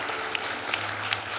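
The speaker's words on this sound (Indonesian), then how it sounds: "Tepuk tangan bagi Tuhan ya" Church congregation applauding together, a dense steady wash of clapping filling the short moment at even loudness.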